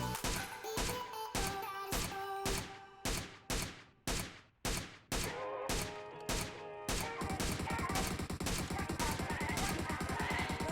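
Long range gunfire in PUBG Mobile, with a string of sharp, loud single shots at an uneven rhythm, then a rapid continuous burst of automatic fire, close and alone.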